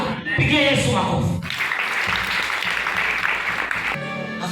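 A church congregation breaks into applause for Jesus after a preacher's loud call, the clapping dense and sustained over a few seconds while voices still ring out at the start and end.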